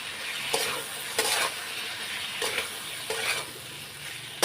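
Boiled chana dal, split chickpeas, being stir-fried in a pan with Kashmiri chilli powder: a low sizzle broken by several distinct bursts of spatula scraping at roughly even intervals, no speech.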